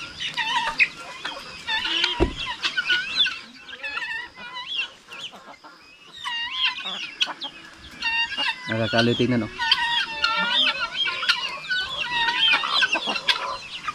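Guinea fowl and chickens on a Filipino backyard farm keep up a busy chorus of clucks and calls, with a brief loud thump and a short burst of low noise partway through, and a person speaking briefly over the flock.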